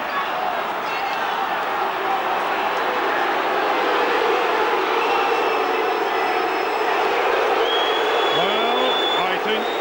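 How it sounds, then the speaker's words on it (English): A rugby league crowd at a Bradford versus Castleford Regal Trophy semi-final boos in a steady, loud, broad roar that fills the whole stretch, with a commentator talking over it. "The crowd's boos signify the reaction here to Crooks staying on the pitch"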